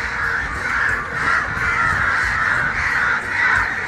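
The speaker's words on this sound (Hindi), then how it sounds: "जितने भी कौवे हैं ना एकदम बहुत जोर जोर से वो कर रहे हैं" Crows cawing loudly on a campus, repeated harsh caws from several birds overlapping in a dense, continuous chorus at close range, with no talk.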